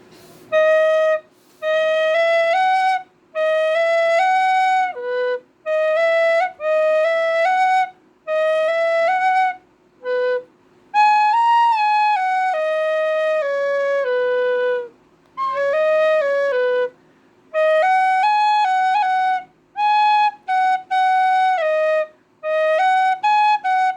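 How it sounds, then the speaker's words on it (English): A tin whistle plays a plain, unornamented melody in clear sustained notes, phrased in short bursts separated by brief pauses. "On the tin whistle, without ornamentation first."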